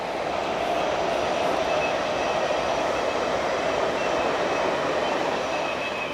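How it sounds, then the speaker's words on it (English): A train passes near fenland woodland at sunset, giving a continuous rumbling roar of rolling wheels and rail noise that stays loud and steady across the whole stretch, with no one talking. "wait for the train"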